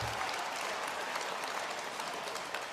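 Steady applause from a crowd on a live morning show, continuous and fairly loud with no pauses, dense clapping filling the whole stretch.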